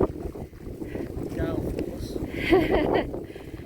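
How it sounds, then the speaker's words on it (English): Strong wind buffets the microphone with a steady low roar, while voices talk faintly underneath. "It is really, really windy."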